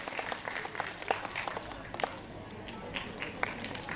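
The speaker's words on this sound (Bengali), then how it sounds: "জোরে হাততালি হয়ে যাক ক্রিয়েটিভ মিউজিক ফাউন্ডেশনের জন্য" Audience applause at a stage music program, a steady wash of many hands clapping with a few sharper claps standing out, heard alone without speech.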